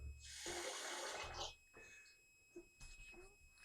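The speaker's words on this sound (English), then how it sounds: "We're going to run a little cold water" Cold tap water runs into a sink to rinse a King C Gillette safety razor, a steady close rush for over a second, then a few brief splashes and drips.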